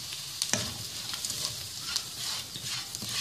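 Beef karahi with dry spices fries in a pan while it is stirred, with a continuous sizzle broken by scraping strokes of the spoon at close range.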